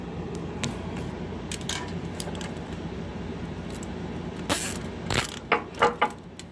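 A ratchet strap is cranked tight on a 53-foot shipping container, giving a few short, close ratcheting clicks toward the end over steady outdoor background noise.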